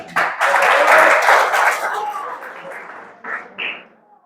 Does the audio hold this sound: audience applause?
yes